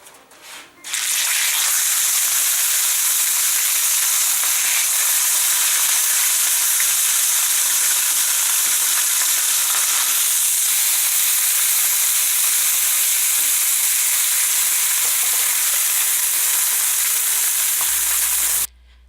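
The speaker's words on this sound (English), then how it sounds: "Now, I suppose you noticed the mess that I'm making on my stove." Pork chops, just out of the oven for a reverse sear, hit a hot pan of grease with a loud, steady sizzle that starts abruptly and holds constant for about eighteen seconds, then cuts off.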